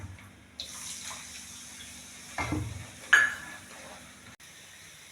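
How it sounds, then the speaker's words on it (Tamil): A cup of milk poured into a pan for thiruppagam sweet, splashing water-like pouring sounds with a few clinks of the pan, in a home kitchen. "இப்போ அதே கப்புக்கு பால் ஊற்றிக்குவோம்"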